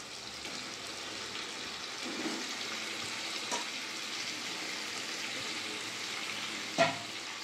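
Washed chicken pieces frying in a pan of cooked-down spice masala with oil, giving a continuous low sizzle with occasional faint stirring knocks and no talk.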